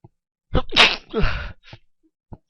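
One loud, explosive sneeze with a sharp intake of breath before it, followed by a few faint sniffs and rustles in the quiet.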